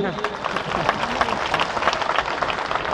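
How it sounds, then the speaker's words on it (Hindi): Audience applause at an Uttar Bhartiya Sangh foundation day event, a steady wash of clapping across the whole stretch, mixed with crowd murmur and some voices. "इनके लिए तालियां बजाइए"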